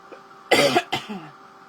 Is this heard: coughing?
yes